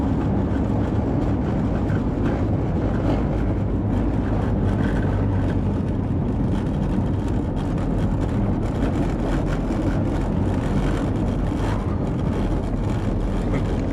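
A Porsche 911 rolls over cobblestones on Velyka Vasylkivska street, with a constant heavy rumble and jittery interior rattling that holds steady and close throughout.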